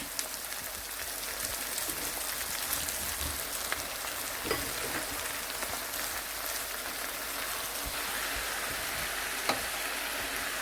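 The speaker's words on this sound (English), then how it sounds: "I'm just going to stir fry this for a while, until the spinach reduces in volume" Spinach is stir-fried in a pan for a vegetable soup, giving a constant dense hiss of sizzling that runs unbroken like steady rain, with only faint occasional clicks and no voices.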